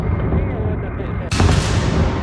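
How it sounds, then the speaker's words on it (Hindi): A missile strike from Russian Ka-52 helicopters on an oil depot in Odesa is heard as a low rumbling roar that swells into a sudden loud burst of broadband blast noise about halfway through and keeps booming. "वीडियो में रूस के Ka-52 हेलीकॉप्टर पहले आसमान में उड़ान भरते हैं और फिर ओडेसा के सबसे बड़े तेल डिपो पर मिसाइल बरसाकर उसे तबाह कर देते हैं"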